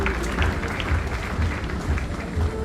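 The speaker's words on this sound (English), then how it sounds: "can we please have a huge round of applause?" An audience applauds at a hackathon in Punjab, with steady clapping from a crowd under some faint background voices.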